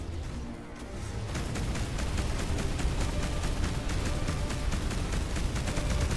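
Spaceship weapons firing in the space combat game Between the Stars, a dense, continuous barrage of rapid blasts and crashing impacts that builds after a quieter first second and stays loud throughout.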